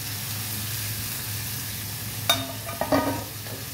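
Tomatoes and grated coconut cooking in a pan give a low, steady sizzle, broken near the end by a few short scraping clinks of a spoon stirring.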